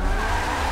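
A widebody MK5 drift car sliding on the handbrake in a racing video game, played with a steering wheel: a brief, steady tire skid with engine roar, loud and continuous.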